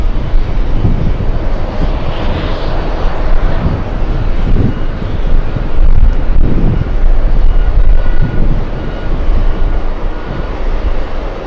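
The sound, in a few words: Airbus A380 aircraft engines at JFK airport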